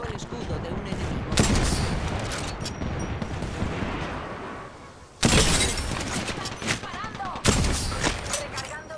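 Gunfire in a shooter video game crackles in loud, sustained bursts with sharp repeated shots and several sudden blasts, dense and close throughout.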